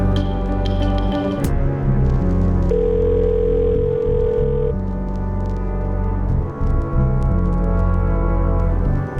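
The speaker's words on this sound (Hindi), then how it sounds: "रिंग जा रही है, मतलब यहाँ का नंबर वहाँ एक्टिव है।" An outgoing phone call to a London number rings through with steady electronic ringback tones, interrupted by a short higher beep, heard close and alone without speech.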